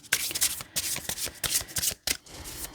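Tarot cards being shuffled by hand at close range, a dense run of quick riffling and slapping bursts with brief pauses between, and no voice over it.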